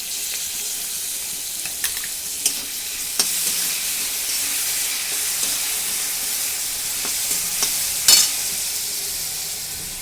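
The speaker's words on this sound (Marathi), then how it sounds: "थोडा शेंगदाण्याचा कूट टाकून छानपैकी हलवून घ्या।" Peanut powder being stirred into a curd and green chilli mixture in a pan, giving a steady soft sizzle with a few light scraping clicks throughout, and no voices.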